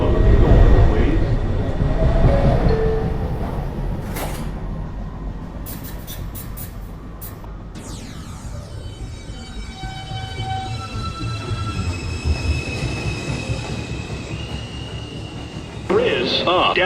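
An R142 car on a Manhattan-bound New York subway 2 train rumbles at a station, wheels screeching and ringing as it moves, steady and close, with recorded announcements over the noise.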